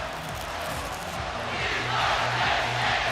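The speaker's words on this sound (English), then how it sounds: "We Are Penn State chant" A stadium crowd in a college football video game chants for Penn State, a broad, steady roar of many voices that swells slightly louder in the second half.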